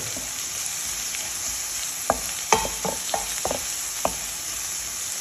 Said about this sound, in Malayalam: കറിവേപ്പിലയാണ് അത് ചേർത്ത് കൊടുക്കാം നന്നായി ഒന്ന് ഇളക്കി കൊടുക്കുക